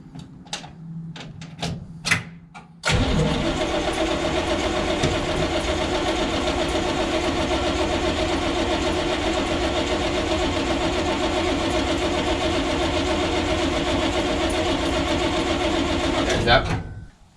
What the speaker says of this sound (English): Okay, let's try firing it up.